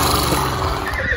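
A mare neighs at a ranch that keeps more than fifty horses, one short, loud whinny heard up close.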